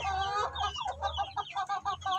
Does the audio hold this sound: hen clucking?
yes